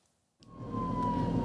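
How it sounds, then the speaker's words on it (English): An ambulance siren wails as the vehicle races toward a suspected heat-stroke patient during an Uttar Pradesh heatwave, rising out of silence to a steady, loud tone. "Sirens wailing. The ambulance races toward another patient in distress."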